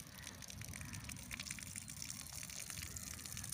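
Water gushes steadily from an outdoor supply tap at a property site, a constant hissing splash that is faint and distant with no voices.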